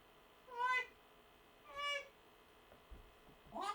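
Waffle, a male pet cat, meows three times, close and clear, with pauses between the long, rising and falling calls. A fourth meow begins at the end, against a quiet room with no talking.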